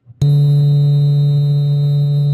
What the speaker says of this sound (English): This is what our sun sounds like.